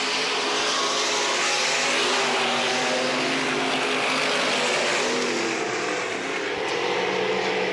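Race cars roaring around a dirt oval during heat races at Minneapolis Raceway, a steady loud engine drone that swells and fades slightly as cars pass, with no talk over it.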